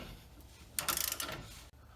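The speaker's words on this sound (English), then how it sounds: "Okay, we've got our torque wrench. Got it set to 67." A torque wrench set to 67 ratchets as it tightens Honda Civic strut bolts, a quick run of faint mechanical clicks lasting under a second against quiet background.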